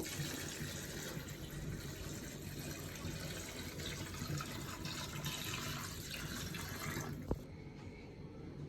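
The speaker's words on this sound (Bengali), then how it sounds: "এখন পানি দিয়ে দিব" Water pours steadily into a cooking pot of oil and spice mix for nihari, a continuous rushing that stops abruptly with a single clunk.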